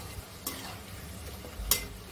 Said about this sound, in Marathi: अशा प्रकारे मीडियम फ्लेमवर तळायचं आहे आपल्याला.